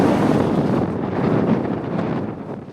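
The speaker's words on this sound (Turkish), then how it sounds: "Rüzgar karşımızdan esiyor, dalga yok" Constant rushing wind at sea buffets the microphone, a dense roar with slow swells and no other distinct sounds.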